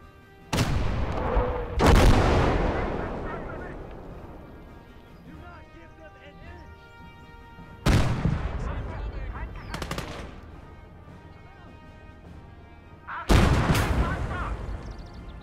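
In a tank video game, heavy artillery fires in loud booming blasts with long rumbling tails, four or five shots spaced several seconds apart, and a player's voice is heard between them.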